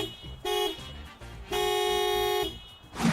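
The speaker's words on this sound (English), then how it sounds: "the actual sound of the RAV4's horn is this" Toyota RAV4 car horn giving two honks, a short blast followed by a longer sustained one, loud and close with a bright, tonal buzz.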